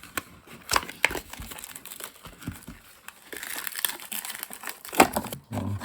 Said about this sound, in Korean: 후지 토키 FP1000 언박싱 해보겠습니다.